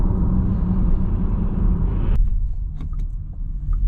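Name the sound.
228 BHP electric car accelerating on road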